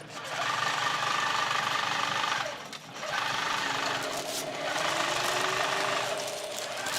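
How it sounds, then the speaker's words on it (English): A longarm quilting machine winds a thread bobbin with a loud, steady mechanical whir that dips briefly near the middle, then resumes its even drone to the end. "So I'm going to go ahead and wind this bobbin completely."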